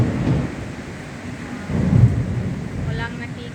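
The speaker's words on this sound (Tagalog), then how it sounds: "Ulan na naman. Lakas ng ulan." Heavy rain in a storm, a dense low rumbling roar with swells of thunder-like surges, loud and continuous throughout.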